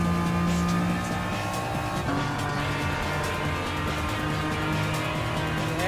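A TVR Tuscan Speed 6 racing in Gran Turismo Sport, its engine droning loud and steady with shifting pitch and a brief gear change, continuous throughout.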